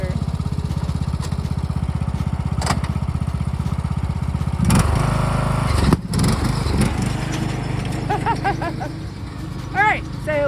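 A small tractor engine runs steadily and loud in the foreground on a garden plot being planted as a small orchard, with a rough chugging drone that shifts and eases partway through, and brief voices toward the end.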